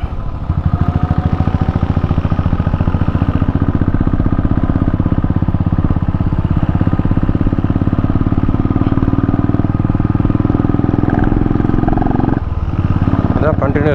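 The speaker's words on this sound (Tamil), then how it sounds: "வண்டி சவுண்ட் ரொம்ப கேட்குதோ." A motorcycle engine runs steadily and loud throughout a ride on a steep, winding mountain road around Kodaikanal, with a brief dip near the end; a rider talks over the continuous engine drone.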